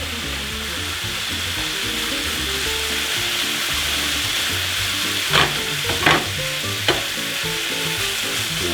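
Rice and pork stir-fry steadily in a hot pan, a continuous sizzle with scraping stirs and a few sharper clinks of the utensil against the pan.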